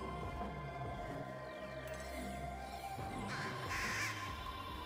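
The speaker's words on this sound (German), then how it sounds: "Ich lasse den Vogel mal in Ruhe." A crow caws in Shin Megami Tensei V, several harsh repeated calls over a steady game soundtrack with chiming tones, no talk.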